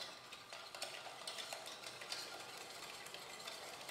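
Egg whites and sugar being whisked while heated for a pavlova meringue, a steady, even swishing and stirring that runs without a break, moderately loud and close, with no voices.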